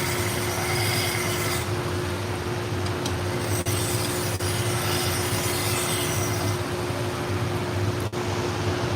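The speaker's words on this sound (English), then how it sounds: "I take a little brush and I get those fibers on that felt belt to come up" A small brush scraping across the felt belt of a running knife-sharpening machine to raise its fibers, a steady close rubbing rasp over a constant motor hum, with a few sharp ticks.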